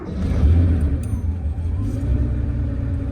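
A 1983 Porsche 911SC coupe's engine rumbles loud and close, a deep steady idle right after firing up, with no talk over it.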